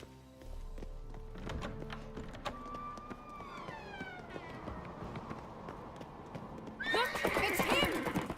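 In The Witcher 3, a horse whinnies loudly and its hooves clop at a gallop, with game music and other effects around it and voices speaking briefly.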